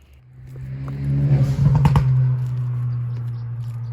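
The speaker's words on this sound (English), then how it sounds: "just touching that throttle, and off we go. Slow crawl down the hill." A truck engine idles at light throttle as it crawls slowly downhill on a trail, a steady low rumble close by that swells slightly with a brief throttle tap before settling back to an even drone.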